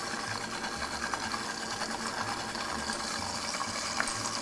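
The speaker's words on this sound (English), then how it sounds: "we can let this just blend right up to a nice, smooth, creamy puree" A blender pureeing beets with extra virgin olive oil into a smooth puree, a loud steady whirring motor drone with a faint pulsing low rumble, running continuously with no talk.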